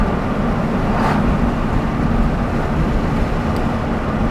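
Steady broadband road roar from the tires of a 2022 Toyota GR86 driving on twisty roads with the windows down, a continuous loud rumble with wind hiss and no pauses.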